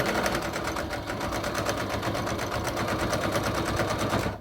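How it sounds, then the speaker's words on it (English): A sewing machine top stitches a fabric wallet with card slots and a zipper, its needle chattering in a fast, steady rhythm close by, running without pause throughout. "what we want to do is top stitch this 1/8 of an inch all the way down"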